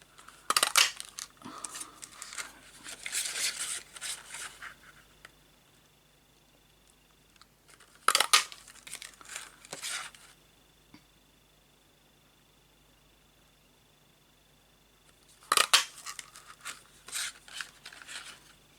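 Scissors cutting paper for a handmade card, three separate bursts of crisp snipping separated by quiet stretches, close and fairly clear.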